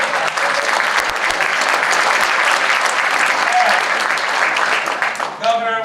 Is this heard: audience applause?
yes